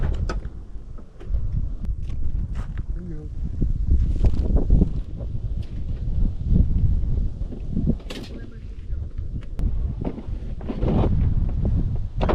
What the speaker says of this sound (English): Sorry if you can hear the wind